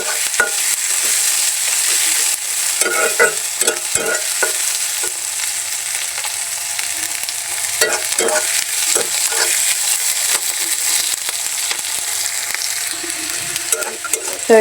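Okra fries in oil, a loud close sizzle that hisses steadily throughout with frequent crackles and stirring scrapes.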